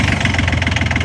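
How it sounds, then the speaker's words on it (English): Kubota diesel engine powering the pump on a 2025 wildland fire truck, running with a steady, loud, rapid knocking idle rhythm throughout, close by and without voices. "We went with the Kubota diesel engine"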